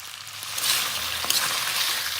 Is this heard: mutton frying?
yes